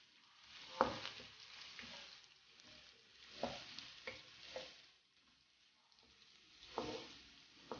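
Green chilies and onions fry in a pan for chicken dum biryani, giving a soft, steady sizzle broken by occasional stirring scrapes, heard up close with no talking.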